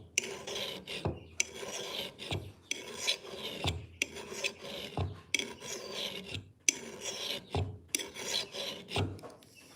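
A rough flat file rasps across metal to reprofile a nicked edge, repeated rhythmic strokes of scraping, close and clear, with brief pauses between passes.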